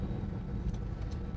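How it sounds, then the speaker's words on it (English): A deep, steady engine rumble from a 1969 Plymouth Road Runner muscle car exhaust holds throughout, close and loud, with no voices. "we'll listen to that awesome exhaust system here a little bit more"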